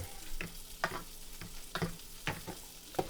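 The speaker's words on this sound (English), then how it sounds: "Stirring up some ramen" Ramen stirred in a hot pan, with repeated scraping strokes roughly every half second over a steady, close sizzle, no talking.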